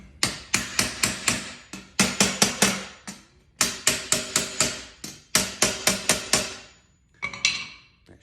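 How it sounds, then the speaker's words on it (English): Hammer walloping carriage bolt heads on an IKEA Marius stool, sharp metallic strikes in quick bursts of four or five, close and loud, separated by short pauses. "You're gonna take your hammer and you're gonna wallop on the top, on the heads of those bolts"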